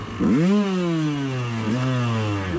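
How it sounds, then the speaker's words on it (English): A Yamaha YZ250 two-stroke enduro motorcycle revs hard and close, its engine note leaping up, sagging briefly, then climbing again in a buzzing, sustained wail with no talk. "Revving that bitch to the moon."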